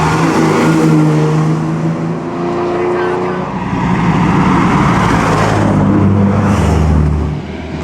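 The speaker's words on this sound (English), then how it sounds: "Four-cylinder Ferrari." A four-cylinder Ferrari drives along the Mille Miglia road race, its engine loud and near, rising and revving over a rumble of other cars, with people talking over the noise.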